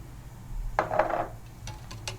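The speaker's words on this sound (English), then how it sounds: "Add some milk and whisk it" Milk being whisked in a bowl for egg-roll batter with white flour: a burst of quick clinking, scraping strokes in the middle, then a few lighter taps, close and moderately loud with no talking.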